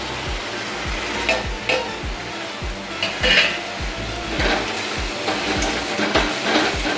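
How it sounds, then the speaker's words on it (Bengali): Ground cinnamon, coriander, cumin and turmeric frying in a pan for a katla fish and potato curry, with a spatula scraping and knocking in a fast repeated rhythm over a steady sizzle, close and fairly loud. "এবার আমি গুঁড়ো মশলাগুলো দিয়ে দিচ্ছি। এতে আছে দারচিনি গুঁড়ো, ধনে গুঁড়ো, জিরে গুঁড়ো আর হলুদ গুঁড়ো"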